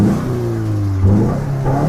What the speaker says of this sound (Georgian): დამეთანხმებით ალბათ რომ ძალიან სუფთად მუშაობს მოტორი